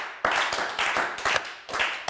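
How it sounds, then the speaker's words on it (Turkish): Studio audience of the Turkish TV word game show Kelime Oyunu clapping in loud, uneven bursts, several distinct pulses of hand claps close by over about two seconds. "Yine üzgün alkış geldi sevgili alkış severler."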